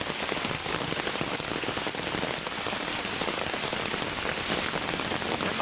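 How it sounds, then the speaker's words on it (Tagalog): Heavy rain pours down steadily, a dense, loud hiss of drops hammering a surface with no letup. "Grabe ang ulan."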